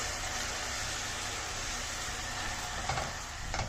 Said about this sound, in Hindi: लाइट सा गोल्डन ब्राउन कर लेना है, बहुत ज़्यादा नहीं करना